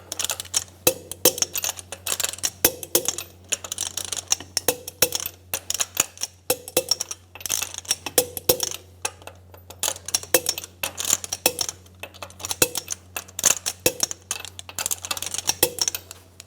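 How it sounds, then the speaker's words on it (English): Repeated sharp metallic clicks from a ratchet tightening lug nuts on a 2003-2007 Infiniti G35 front wheel, coming in quick irregular bursts throughout, close and fairly crisp, with no talking. "Torque the lug nuts in a star pattern to 80 foot-pounds."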